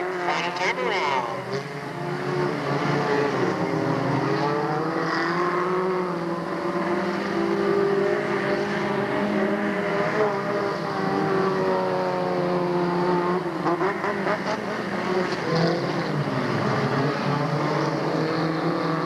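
Race cars lap Delta Speedway in 1997, their engines droning and shifting in pitch as they pass, heard steadily throughout with a commentator's voice over the racket.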